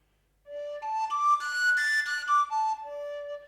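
An overtone flute played with its bottom end left open produces a breathy series of clear whistled tones stepping between pitches, steady and close, without any talk.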